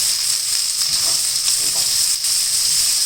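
Chopped capsicum sizzles in hot oil in a pan while cooking veg dum biryani, a steady, close frying hiss with faint stirring scrapes and no talk.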